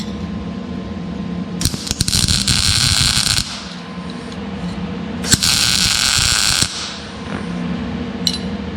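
An Eastwood MIG 175 welder lays beads on thin sheet metal of about 1/16 inch in two separate bursts, each a few seconds of harsh, steady crackling hiss. A low machine hum fills the gaps between them, and nobody speaks.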